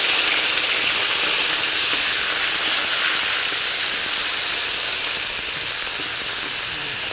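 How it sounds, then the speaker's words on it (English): Shrimp frying loud and close in a hot pan for a shrimp fried rice, a steady dense sizzle and hiss that runs unbroken throughout with no talking. "we're gonna fry up some shrimp"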